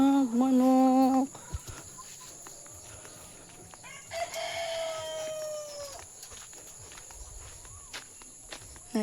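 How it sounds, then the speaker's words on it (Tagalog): A rooster crows loudly at the start, followed by scattered chicken clucks, footsteps and faint farmyard bustle, with a thin rising call later on a Philippine farm. "Daming manok."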